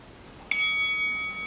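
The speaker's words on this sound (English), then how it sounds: "Ding. Boxing bell. That's what we want." A single bell strike rings out as a boxing bell, a sharp metallic ding followed by a long, steady ringing tone that sustains for about a second without fading much.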